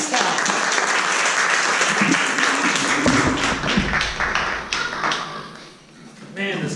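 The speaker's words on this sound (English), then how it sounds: "And give him a round of applause." An audience at an improv comedy show breaks into applause, a burst of clapping mixed with voices and cheering that swells and fades over several seconds.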